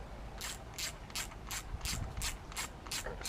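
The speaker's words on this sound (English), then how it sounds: "winding down onto the case, and it's lifting straight off." A puller tool is wound down against the case of an OBR 30.5cc engine to lift the clutch carrier off, giving about nine evenly spaced ratcheting clicks up close, with no talking.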